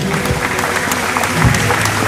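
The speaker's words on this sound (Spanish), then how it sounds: "Fuerte el aplauso para ellos." Loud, dense crowd applause at a May 25 civic ceremony in Villa Ángela, continuous clapping filling the whole moment.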